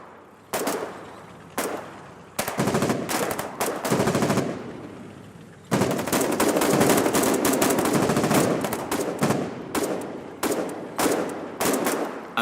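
Bursts of automatic gunfire from a mounted gun in the war game Foxhole, loud and close, with rapid repeated volleys separated by short pauses and one long sustained stretch of fire.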